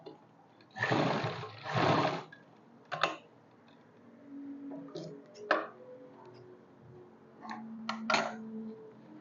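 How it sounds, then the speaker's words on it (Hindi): A sewing machine runs a straight seam over elastic on a pair of straight-cut trousers, with two loud stitching bursts near the start followed by shorter, fainter runs and clicks. "तो इसके ऊपर एक सिलाई लगा लेंगे सीधी"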